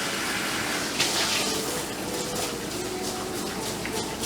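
Steady gushing water spray from a salon shampoo hose rinsing hair at a basin, continuous and fairly loud close by, with no break in the flow.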